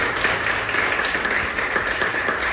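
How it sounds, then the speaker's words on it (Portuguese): A church congregation claps in praise, a dense, steady patter of many hands filling the room without pause. "as palmas elas louvam ao Senhor Jesus Cristo"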